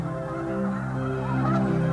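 Snow geese honk steadily in the wild, a dense, continuous chorus of overlapping calls that swells slightly toward the end, with no voices.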